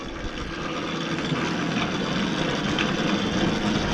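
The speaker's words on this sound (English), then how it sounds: "Obviously you heard the engine idle" A motorised bicycle's small engine idles steadily and roughly at moderate volume, a constant low rumble with buzzing texture and no changes in pace.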